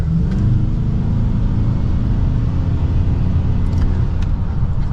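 A 2024 Ford Maverick XLT Tremor pickup accelerating, heard from inside the cab as a loud, steady low engine drone and road rumble that holds level throughout.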